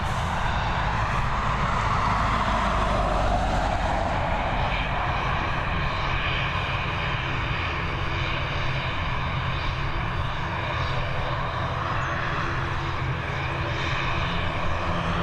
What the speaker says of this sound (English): first up we've got this ATR that's been sat there waiting forever and is now leaving us, heading over to Edinburgh